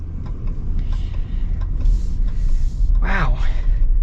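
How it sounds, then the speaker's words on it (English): A 2025 Ram pickup with the Hurricane high-output engine, heard from inside while driving as a loud steady low rumble of engine and road noise with a brief rising whine near the end. "This is a weird engine for a pickup truck."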